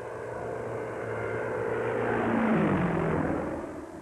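A propeller aeroplane flies past, its droning engine swelling to a loud peak around the middle and then easing away, with no voices present.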